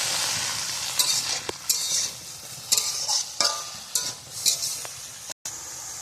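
Leafy greens cook in a pan, stirred with repeated scraping strokes over a constant soft sizzle. The sound is close and there is no speech.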